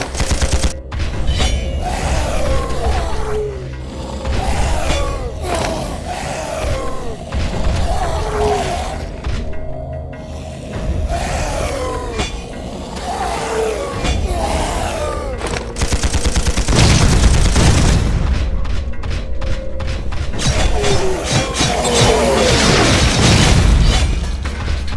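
Sci-fi mech combat in the Implosion Android game: rapid bursts of automatic gunfire and heavy booming blasts, loud and continuous, with mechanical clanks between volleys.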